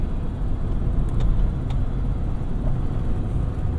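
A 2000 Toyota Tundra SR5 V8 pickup's engine rumbles steadily from inside the cab, with broadband road noise and a few faint clicks, no talking.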